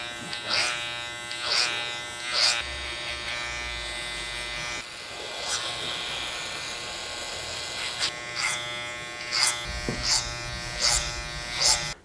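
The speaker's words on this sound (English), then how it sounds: "We'll do a nice low taper on this, so a little bit of clipper over comb." Electric hair clippers buzz steadily through a clipper-over-comb low taper on a medium-length cut, close and continuous with short pauses and repeated bursts as the blades work up the back of the head.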